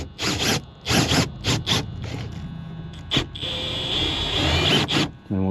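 A WRD drag wire tool cuts through windshield urethane in short, loud, rasping, zipper-like strokes, then settles into a longer continuous whirring pull near the end.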